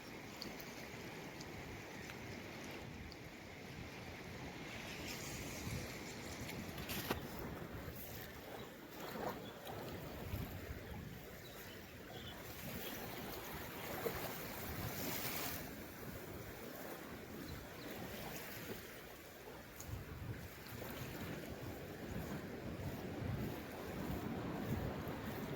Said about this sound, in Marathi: समुद्रात उठणाऱ्या लाटा तुम्ही बघू शकता.